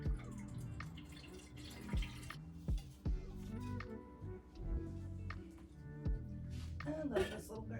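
Water drips and trickles onto a small potted mini bonsai tree being watered indoors, producing a series of irregular soft splashes and drops at close range with light background noise.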